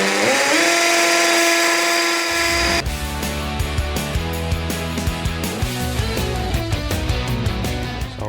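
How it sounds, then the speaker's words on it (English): A power drill whines loudly and steadily, then shifts into a rougher, grinding tone as it bites into the material drilling pilot holes, running continuously. "Now I'm gonna drill some pilot holes."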